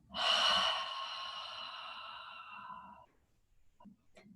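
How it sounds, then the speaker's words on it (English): A long, audible cleansing exhale through the mouth during gentle restorative yoga breathing, strong at first and tapering over about three seconds, followed by a quiet breath. "Inhale. Cleansing exhale."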